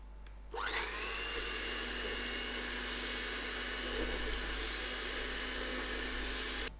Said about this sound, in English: Now I will whisk